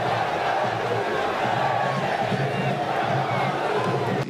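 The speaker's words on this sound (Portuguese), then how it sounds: "A reta final da partida foi marcada por mais protestos da torcida em São Januário" Vasco supporters at São Januário stadium roar in protest, a dense, continuous crowd noise of shouting and chanting that fills the stands without a break.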